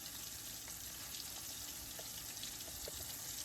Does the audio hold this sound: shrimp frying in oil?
yes